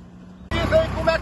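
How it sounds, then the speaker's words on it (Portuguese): A motorcycle passes over a newly laid paved street in the district of Esperança, its engine rising suddenly from near silence into a close, loud rumble with a drone that lingers briefly. "o motoqueiro passando de moto aqui no calçamento aqui"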